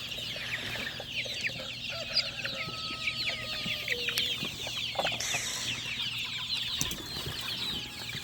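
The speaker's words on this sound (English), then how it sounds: "It's like the turkeys, they like won't leave me alone." Turkeys and other farmyard fowl cluck and chatter steadily at close range, with short repeated calls overlapping across a busy outdoor background and no voices.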